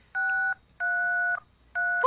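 Telephone keypad dialing tones: three evenly spaced steady beeps, each lasting about half a second, clear and close with quiet gaps between them.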